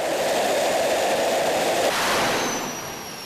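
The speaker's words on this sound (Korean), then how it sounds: "불꽃과 함께 엄청난 세기의 바람과 소음이 뿜어져 나온다." An F-5 fighter jet engine runs during a ground test, producing a loud, continuous broadband roar that holds steady, then shifts tone partway through and eases slightly toward the end.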